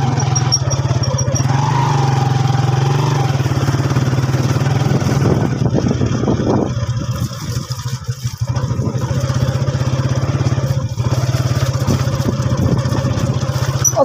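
A motorcycle rides along a village road in Pakistan, its engine droning steadily and loud close by, with a strong low hum and wind noise throughout, dipping slightly mid-ride.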